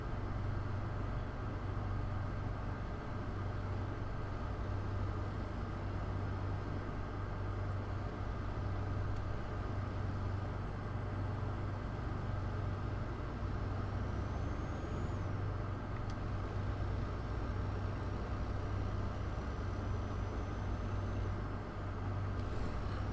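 A heavy truck in American Truck Simulator, hauling a loaded earth trailer, drones with a constant low engine rumble that stays at an even level throughout, with no talking.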